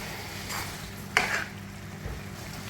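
Coconut milk is stirred into a soya and cauliflower curry in a pan, a soft bubbling hiss with one sharp scrape of a spoon against metal, close and quiet, with no talking.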